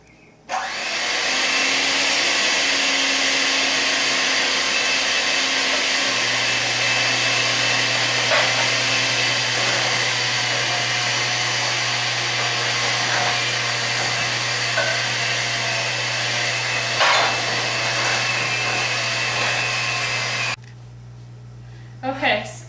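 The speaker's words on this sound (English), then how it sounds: "as I use the beater for about 2 minutes on medium speed" Electric hand beater running at medium speed through chocolate cake batter with coffee and buttermilk, a steady loud whirring drone for about twenty seconds before cutting off, with a few small bumps and clatters along the way.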